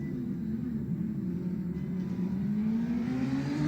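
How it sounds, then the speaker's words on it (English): A racing motorcycle engine drones steadily during a TT race, revs sagging slightly, then climbing again toward the end; loud and continuous with no talk. "they're all letting the revs just drop a bit, and then that's as they dump the clutch"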